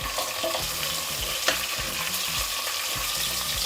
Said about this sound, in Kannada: ಮಟನ್ ಹಾಕಿದ್ಮೇಲೆ ಒಂದು ಮೂರು ನಾಲ್ಕು ನಿಮಿಷ ಹಾಗೆಯೇ ಫ್ರೈ ಮಾಡಬೇಕು